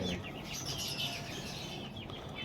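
Domestic pigeons flutter and chirp at close range in a soft, steady, busy stream of bird sounds and wing noise, with no talking.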